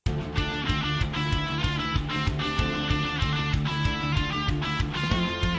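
Anime battle theme verse with driving drums, palm-muted rhythm guitars, piano chords, a lead guitar line and a viola counter melody, loud and dense throughout.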